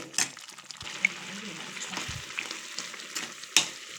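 Mushroom masala gravy with fried mushrooms simmering in a pan, a soft, steady bubbling sizzle with a few sharper pops and light clinks of a spoon, fairly faint and close.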